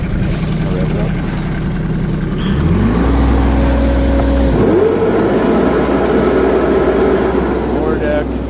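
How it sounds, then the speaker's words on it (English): A Kioti tractor engine idles loudly, then revs up in a smooth rising climb, holds at higher speed, and rises again before settling into a steady drone, with a voice briefly audible over it. "Here, I'll rev it up."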